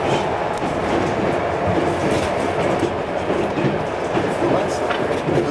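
A Trans-Mongolian passenger train rolls along the rails, giving a loud, continuous rumble with rattling carriages and faint clickety-clack, close and steady throughout.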